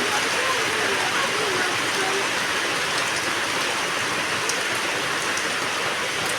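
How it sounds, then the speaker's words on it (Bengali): Steady rain pours onto an open home courtyard turned muddy, a dense continuous hiss close by with scattered drip-like taps, loud and unbroken throughout. "বৃষ্টি কমছে একটু"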